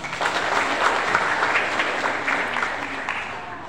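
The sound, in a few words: audience applause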